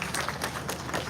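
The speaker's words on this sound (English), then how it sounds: "Can we give a round of applause for all of them?" Brief burst of audience applause at a talk, dense clapping at moderate level with no voices over it.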